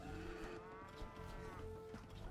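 Cow mooing in the strategy game Age of Empires II, a single sustained low bovine moo held across the whole short stretch, steady and moderately loud.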